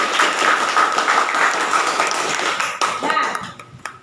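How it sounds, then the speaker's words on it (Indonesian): Audience clapping in a classroom setting, a brisk close patter of hands lasting a few seconds and thinning out toward the end, with voices underneath. "Oke, tepuk tangan yuk."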